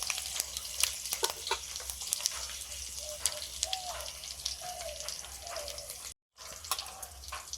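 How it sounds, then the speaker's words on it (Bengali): Dried red chillies and panch phoron spluttering in hot mustard oil, a close crackling sizzle with sharp pops and bursts throughout, briefly cut off near the end. "সর্ষের তেল দিয়ে ফোড়নে দিলাম শুকনো লঙ্কা পাঁচ ফোড়ন"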